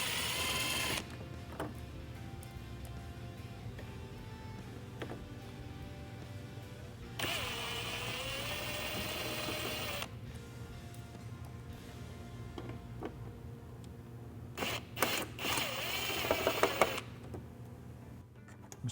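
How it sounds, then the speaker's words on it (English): Mechanical ratcheting and tool noise from loosening three 7mm bolts on the wheel well liner of a 2021-2026 Ford F-150, close and steady, with a longer whirring stretch and a few sharp clicks near the end. "I'm just going to loosen 3 7mm bolts so I can peel it back."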